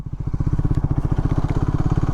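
A Triumph Speed 400 motorcycle engine thumps with a fast, even single-cylinder beat as it pulls up through the gears, loud and close, with no voices.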